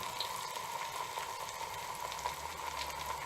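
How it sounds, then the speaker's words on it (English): Bottle gourd bajas deep frying in a bigger pan of oil give a soft, steady bubbling sizzle with faint pops, fairly quiet and continuous, no voices. "And you can take a bigger pan and deep fry it till you get it crispy"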